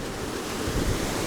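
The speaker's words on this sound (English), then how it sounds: "Look at those waves." Ocean waves break at the edge of an island cliff on Nusa Ceningan, Bali, making a steady, broad roar of surf mixed with wind noise, with no talking.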